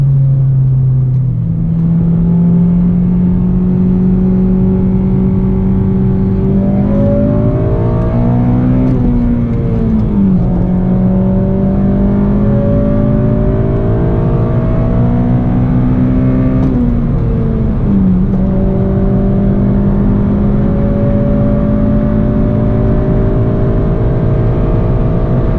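A Honda Civic Si tuned with a Hondata Flashpro accelerates hard, its engine droning loud from inside the cabin and climbing through the revs with a few brief dips at gear shifts, no talking.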